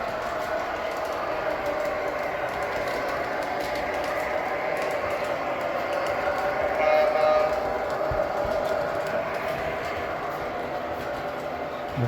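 A train rolling steadily past a signal block on a rail line, a continuous mid-distance rumble and hum of wheels on track with a faint squeal, holding even throughout without voices.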